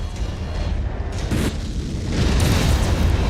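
An in-game missile explosion lands as a heavy, rumbling boom, with loud sustained blast noise that swells again toward the end.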